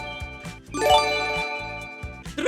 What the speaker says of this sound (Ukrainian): мені начальник дзвонить